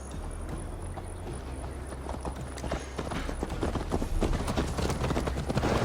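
Steady clip-clop of horse hooves as Eivor rides toward Tamworth in Assassin's Creed Valhalla, a rhythmic gallop that grows louder and busier over several seconds, with no voices.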